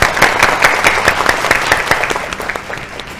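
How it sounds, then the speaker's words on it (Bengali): A studio audience at a Bengali family game show claps loudly and steadily for two tied contestants, a dense burst of applause that eases slightly toward the end. "দুপক্ষের জন্যই জোরে হাততালি"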